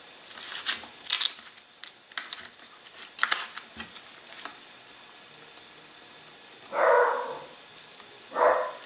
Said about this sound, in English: they like to bark at anything that moves and some things that don't.